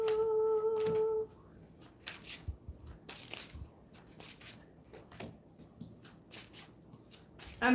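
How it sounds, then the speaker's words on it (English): Tarot cards are shuffled and pulled by hand, with crisp riffling bursts and slaps in an irregular rhythm, close up, after a brief tone at the start. "I'm in the midst of pulling your cards now."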